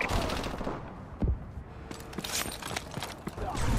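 Rapid bursts of gunfire from an orbiting Vulcan killstreak in Call of Duty, a dense, rattling fusillade with a sharper impact near the middle, steady and moderately loud throughout with no talking.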